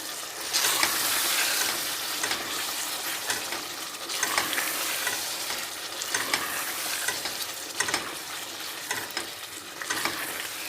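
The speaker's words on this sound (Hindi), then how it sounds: "अब इन सबको शामिल करते हैं और अच्छी तरह भूनते हैं।" Red chilli and cumin are stir-fried in a pan for a boneless chicken dish, producing a loud, continuous sizzle broken by rhythmic scraping strokes of the stirring spoon, up close and without voices.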